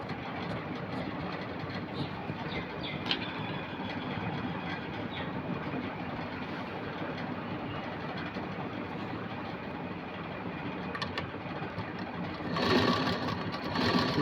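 A sewing machine runs steadily, stitching lining cloth for a princess-cut Aari work blouse, a continuous close whir that swells slightly louder near the end, with no talking.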